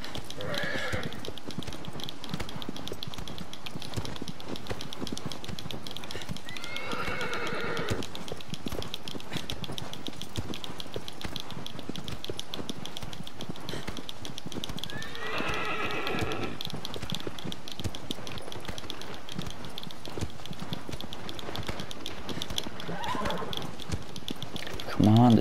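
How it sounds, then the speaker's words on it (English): A horse in the video game Shadow of the Colossus, steady galloping hoofbeats under game ambience, with several whinnies breaking through and a voice talking now and then. "Come on, this horse is so slow."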